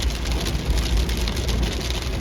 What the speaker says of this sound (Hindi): देखिए ना कितनी अच्छी बारिश है।